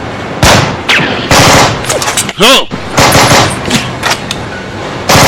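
Bursts of rapid automatic machine-gun fire in a film, loud and close, with a whistling ricochet-like tone partway through amid dense battle noise.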